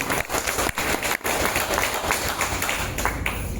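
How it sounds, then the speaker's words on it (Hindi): An audience at a talk bursts into applause, dense continuous clapping that stays loud and steady for a few seconds. "जोरदार ताली होनी चाहिए।"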